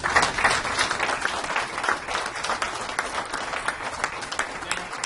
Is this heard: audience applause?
yes